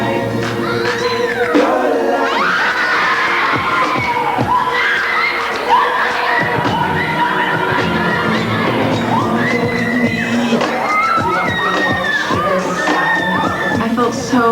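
Girls scream and shriek excitedly at a surprise during a pop group photoshoot, a loud, sustained burst of high-pitched crowd-like yelling and cheering with laughter mixed in.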